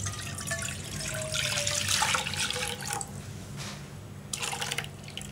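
Milk pours into a pan for vermicelli pudding, a steady splashing liquid stream that swells and then fades in bursts, near and clear with no talking.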